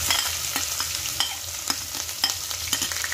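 Chopped onion fries in oil with bay leaf, cloves and cardamom for dhaba-style aloo, a constant sizzle broken by regular spoon scrapes and taps against the pan, close and alone.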